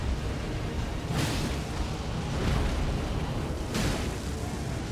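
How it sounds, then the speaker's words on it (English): Booming blasts during a fight in the video game Elden Ring, set in the Caelid region, with a few heavy bursts roughly a second and a half apart over a constant loud rumbling bed and no clear speech. "Did I do the big explosion?"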